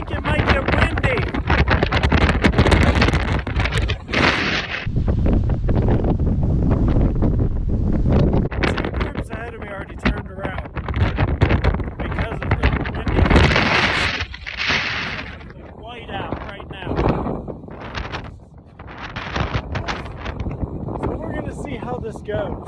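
Strong, constant wind on a mountain climb heading into a white-out blizzard, battering the microphone with heavy roaring buffeting that persists throughout, briefly easing and then surging again.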